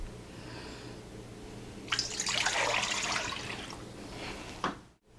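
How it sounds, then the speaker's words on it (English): Water poured into a bowl for dashi broth in a kitchen, a soft splashing stream lasting a few seconds, a brief trickle afterward, then silence; fairly faint and close. "Get some water and pour it into a bowl."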